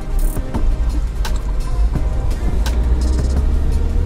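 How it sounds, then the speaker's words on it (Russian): On a Lada Niva braking on a winter road, the ABS chatters in rapid irregular clicks and knocks over a loud low engine and tyre rumble inside the cabin. "слышно, как АБС трещит"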